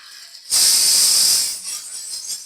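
Water runs steadily from a tap over chopped raw plantain being washed, a loud continuous hissing rush that starts abruptly and then eases a little, with no talk over it.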